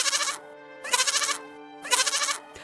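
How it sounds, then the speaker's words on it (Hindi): A goat bleats three times in quick succession, each a loud, wavering, nasal cry of about half a second, separated by short quiet gaps, close and alone. "बकरी की आवाज आने लगी"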